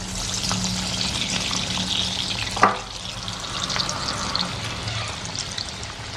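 Parippu vada, flattened lentil fritters, sizzling steadily in hot oil, with a loud bubbling hiss throughout and a brief sharp crackle near the middle as a fritter drops in.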